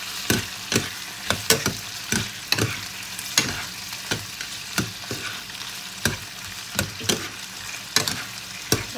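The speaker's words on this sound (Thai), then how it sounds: "ผัดปลาหมึกคลุกเคล้ากับพริกกับกระเทียมให้เข้ากันนะคะ" Squid tossed in a hot wok with chili and garlic, a steady sizzle of frying broken by repeated sharp scrapes and clacks of the stirring utensil, close and without talk.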